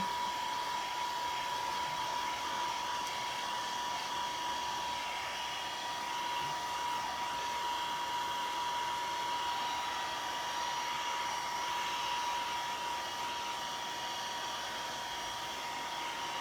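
A heat tool blows continuously at close range to dry modeling paste, a steady loud whooshing drone with a thin whine that holds level throughout and has no pauses.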